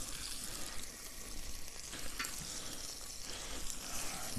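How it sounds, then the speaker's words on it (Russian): Pork ribs fry in a hot pan of oil with a steady, close sizzle that fills the background, crackling evenly with a few sharper pops, and no voices heard. "Масло стекает, уже сковородка горячая, руками ложим. Ой, шипит классно."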